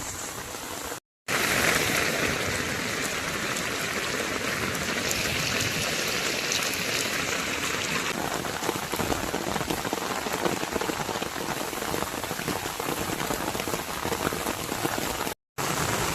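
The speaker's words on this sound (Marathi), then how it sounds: "काय हा पाऊस म्हणावा की काय म्हणावा याला." Heavy monsoon rain in the Konkan pours down in a loud, dense, unbroken hiss of drops on surfaces, with two brief cutouts in the sound and no voices.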